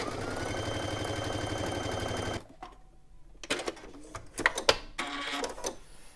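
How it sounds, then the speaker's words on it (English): A Brother Innovis VQ2 sewing machine stitches interfaced wool in a rapid, steady mechanical whir for about two seconds, then stops and is followed by scattered handling clicks and rustles nearby. "if we just get that underneath the foot of the machine and then give that a go"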